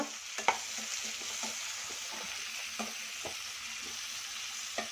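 Capsicum stir-fries in a pan, a soft continuous sizzle broken by scattered light clicks and scrapes of a spatula stirring the pieces, with no talking.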